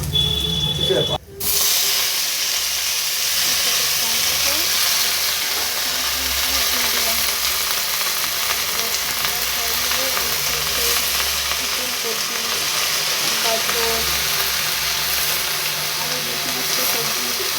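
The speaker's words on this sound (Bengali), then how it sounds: "কড়াতে আমি যেসব সমস্ত সবজি দেবো সেগুলোকে ভেজে নেবো জিরে কাঁচা শুকনো লঙ্কা আর একটু আদা" Vegetables fry in a wok with cumin, green and dried chillies and ginger for a vegetarian khichdi, giving a loud, continuous close-up sizzle and hiss after a brief clatter near the start, with no talking.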